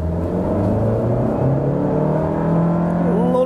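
2021 Honda Civic Touring with a 1.5 turbo engine accelerating hard from a standing launch, engine note climbing steadily through rising harmonics, loud and close with no talk.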